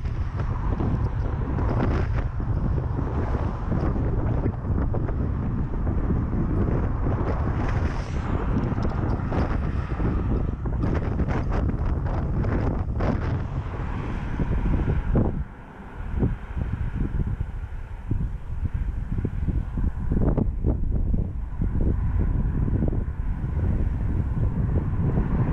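Wind buffets a microphone during a warm-day bike ride on a Finnish archipelago route between Kustavi and Turku, a loud, continuous rumbling roar with brief dips and no talk.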